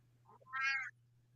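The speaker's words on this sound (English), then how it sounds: "That's my cat, man." A cat meows once in a short, clear, moderately loud call, preceded by a couple of faint squeaky chirps, over a steady low hum with no talking.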